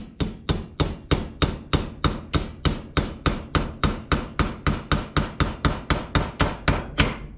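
A hammer taps a carburetor part into place on a 2005 Yamaha TTR 230 in a quick, steady rhythm, about twenty-five sharp metallic-wooden knocks close by, with no talking.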